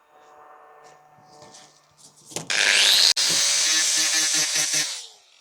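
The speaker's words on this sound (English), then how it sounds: "I'm not using a grinding disc, I'm using a flat sanding pad here" An angle grinder with a flat sanding pad spins up loudly on welds with a harsh, hissing whine after some quieter workshop noise, running steadily for a few seconds before cutting off.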